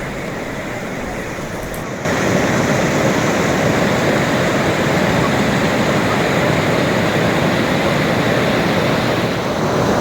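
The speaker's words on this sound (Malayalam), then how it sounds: "ഈ വെള്ളത്തിന്റെ ഒഴുക്കൊണ്ട് ഇവിടെ ഭയങ്കര ശബ്ദമാണ്" Loud, steady roar of a rushing river beneath a hanging bridge in Himachal Pradesh, a dense unbroken wash of noise that jumps up after a brief quieter moment and continues throughout.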